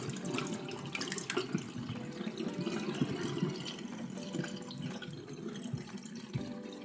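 Water is poured into a container holding aquarium sand, a steady splashing, trickling flow that runs continuously and fairly close with no talking.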